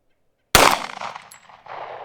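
Foxtrot Mike FM45 rifle firing a single loud, sharp gunshot after a brief silence, followed by a short decaying echo and a faint metallic ping.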